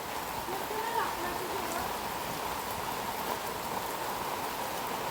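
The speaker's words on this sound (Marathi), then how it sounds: "पाऊस काय थांबायचं नाव घेत नाही पाऊस चालूच आहे" Steady rain pours down outdoors at the ISKCON Kidzone, a continuous even hiss of drops on surfaces lasting throughout, with no clear break or lull.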